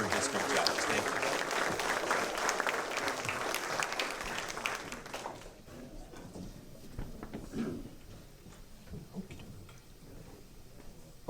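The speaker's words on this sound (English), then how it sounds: "A round of applause for the candidates for district judges." Audience applause for district judge candidates at a 2020 political forum in Polk County, Texas, loud and dense for about five seconds, then fading to scattered claps and room murmur.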